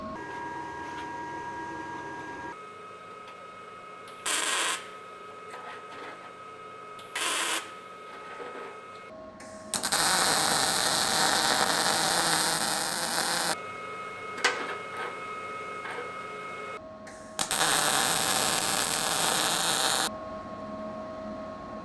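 Harbor Freight Titanium 170 welder laying a bead on solid half-inch cold rolled steel, with loud crackling bursts of arc noise in several separate runs, including two longer stretches, and quieter hum between them.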